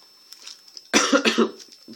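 A few close, harsh coughs burst out in quick succession after a quiet stretch, followed by faint rustling.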